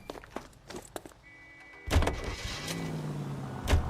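In the L.A. Noire video game, car doors thunk shut twice, separated by a short pause, as characters get into a car. A motor hum and some rustling run between the two slams.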